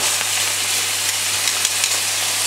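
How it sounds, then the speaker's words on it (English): Bacon bits sauté in a hot pan, producing a steady, close, loud hiss of frying fat with small crackles scattered throughout and no voices. "Now our bacon bits, we saute them on quickly, but we don't want to make them too crispy."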